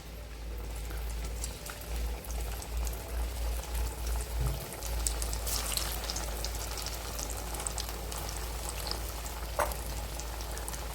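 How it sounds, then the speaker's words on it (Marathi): Coriander vadi deep fry in hot oil over a low flame, giving a steady, fairly quiet bubbling sizzle that carries on without a break, with a low hum underneath. "तेल गरम झालेलं आहे. वड्या तळून घेऊयात."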